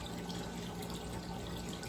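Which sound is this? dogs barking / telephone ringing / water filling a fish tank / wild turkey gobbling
water filling a fish tank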